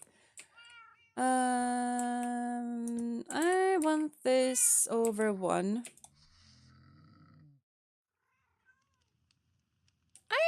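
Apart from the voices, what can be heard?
cat meowing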